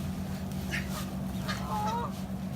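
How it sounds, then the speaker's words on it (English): Ducks on open water give a few faint, scattered honking and quacking calls over a steady low background rumble, with no talking. "Look at all these ducks."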